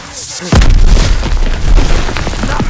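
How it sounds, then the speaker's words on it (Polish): An explosion in the video game Call of Duty: WWII, D-Day mission: a sudden loud boom bursts out after a brief quiet moment, followed by a sustained heavy rumble and crackling debris. "To zaraz wybuchnie!"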